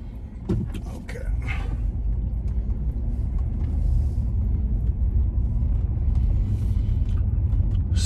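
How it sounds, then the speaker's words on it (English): A car rolls through a residential neighborhood in Boca Raton, Florida, giving a steady low road rumble with a few brief knocks near the start. "So we are driving, we are touring"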